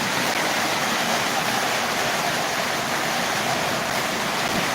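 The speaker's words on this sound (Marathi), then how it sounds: "या ठिकाणी जोरदार तुफान पाऊस पडत आहे" Heavy torrential rain pours steadily at the Balumama temple in Belmachi, a dense, loud, unbroken roar of water with no letup and no voices.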